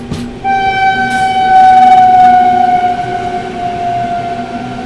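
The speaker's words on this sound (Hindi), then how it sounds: "दोस्तों ये थी भुवनेश्वर तेजस राजधानी, बट तेजस रैक के साथ नहीं चल रही थी, नॉर्मल LHB रैक के साथ चल रही थी।" The Bhubaneswar–New Delhi Tejas Rajdhani Express, running with a normal LHB rake, sounds a long, loud, sustained horn as it passes close by over a steady rumble of the train.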